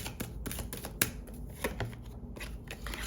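Oracle cards are shuffled by hand, a quiet, close series of crisp riffling flicks and soft slaps in an uneven rhythm, with one sharper snap partway through.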